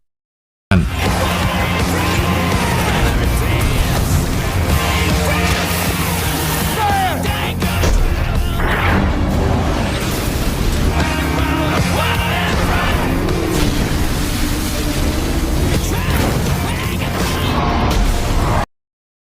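A street car chase with gunfire in an action film, a dense, loud soundtrack of engines, whooshes, bursts, crashes and shouts running continuously, then cutting off abruptly at the end.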